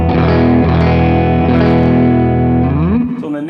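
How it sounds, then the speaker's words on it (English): A sustained overdriven electric guitar chord on the neck pickup rings out with warm, thick tube-amp distortion from a Purdy MP 18 amp, then shifts and decays near the end; loud and close, no talking. "on the neck pickup, it's more pronounced that there is overdrive happening there"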